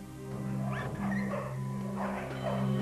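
Stray dogs scavenging at a garbage dump whimper and yip close by, a run of high whining cries and short yelps over a steady low drone.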